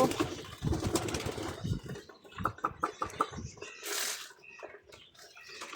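Homing pigeons flutter and peck close by as they are fed, with soft cooing and brief wing flaps amid light rustling; a voice murmurs faintly in the background.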